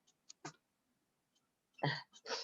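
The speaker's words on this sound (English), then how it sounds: "I'm gonna sneeze." A sudden sneeze bursts out loud and close after a few faint throat noises, with a second short explosive breath following.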